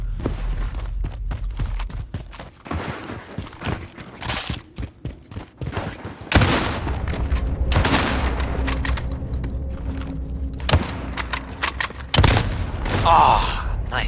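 Sniper rifle shots in a video game 1v1 match, several sharp cracks spaced apart amid steady game noise, with people talking between shots.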